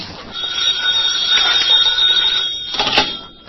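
An old telephone bell rings in a loud, continuous electric trill, close by and without voices.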